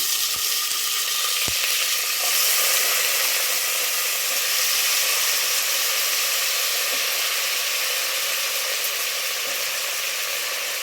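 Chopped beans, carrots, kohlrabi and potatoes sizzle and fry in a hot pan for a vegetable kurma, a steady broadband hiss with light stirring scrapes throughout, close and continuous with no talking.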